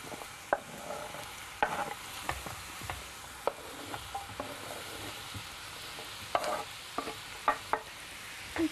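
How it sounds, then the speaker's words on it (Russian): Hare offal frying in a pan with onion and carrot, a soft steady sizzle punctuated by frequent stirring clacks and scrapes, close and without talk. "и также отправляем ее вслед за луком и морковкой обжариваться"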